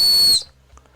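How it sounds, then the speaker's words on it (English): Bear Grylls survival whistle blown once, a shrill, piercing high tone held for about a third of a second before cutting off into near silence. "some more paracord with Bear Grylls whistle here"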